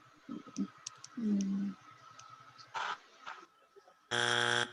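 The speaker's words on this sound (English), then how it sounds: "That's why you got a buzzer." A game show time-up buzzer sounds near the end as one loud, sustained electronic blare, after scattered clicks and short beeps.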